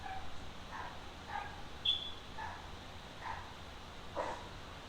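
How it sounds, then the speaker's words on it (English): Several faint dog barks come from a distance, spaced irregularly across a few seconds, over a quiet background. "Don't mind the dogs."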